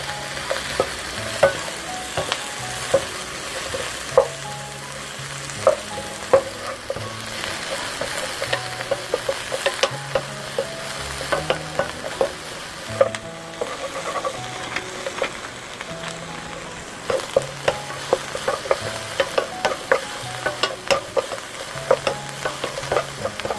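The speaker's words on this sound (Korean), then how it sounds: "여기에 꽈리고추가 투명해질 때까지 달달 볶아줍니다" Shishito peppers stir-frying in a pan with anchovies, a loud steady sizzle broken by frequent scraping and clanking strokes of the spatula, close up and with no talking.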